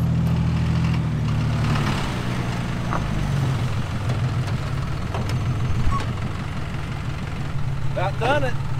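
An off-road truck with a 4.0 engine fitted with a stroker crank, at Lake Mead: a steady low engine idle rumbles throughout at close range, with faint background noise and brief higher chirps near the end.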